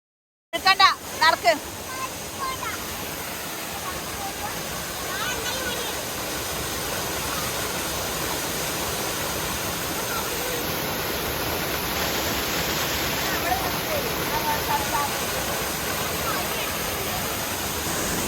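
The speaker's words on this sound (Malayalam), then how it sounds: "ഒരു മിനി വെള്ളച്ചാട്ടം, നല്ല ഭംഗിയുള്ള വെള്ളച്ചാട്ടമാണ്" A small waterfall seen on a hill trip, a steady broadband rush of flowing water that holds an even level for most of the stretch after a few brief knocks at the start.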